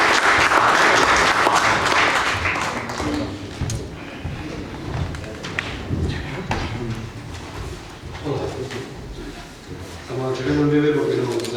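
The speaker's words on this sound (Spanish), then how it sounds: "¿Me pueden aplaudir mientras yo diga?" An audience bursts into loud applause at an event, and the clapping fades after a few seconds as a voice begins speaking over the room.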